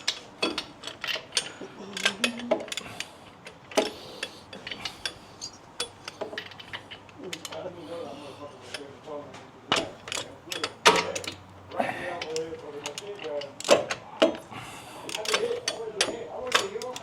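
Ratchet wrench turning a bolt while an oil cooler is fitted to a Harley-Davidson M8 bagger, giving bursts of close, dry clicks broken by pauses and mixed with scattered handling noise and some voice sounds.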